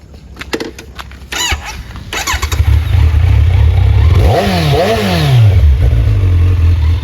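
A Kawasaki ZX-10R four-cylinder sport motorcycle, fitted with an aftermarket exhaust, starts with a few clattering cranks, then idles loudly nearby and is blipped through two rising and falling revs.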